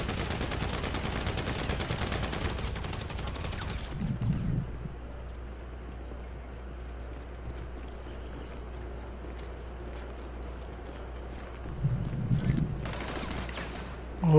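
Gunfire from enemies shooting at the player in GTA V Online, a dense rattling stretch up front followed by quieter ambient game noise, with another burst of shots near the end.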